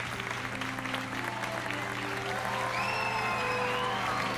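Students applauding in Hogwarts Legacy, a steady wash of game-crowd clapping that holds throughout, with soft background music and a few tonal melodic lines rising near the end.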